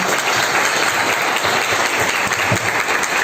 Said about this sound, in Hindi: सबके लिए एक बार जोरदार तालियां हो जाए